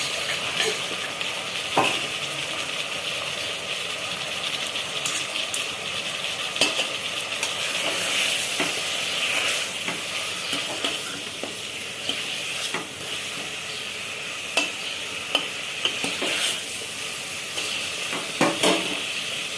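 Chili powder, coriander powder and other spices frying in oil in a pan give a continuous close sizzle and hiss, broken by sharp clicks and scrapes of a stirring spoon. The sound runs alone, with no talking.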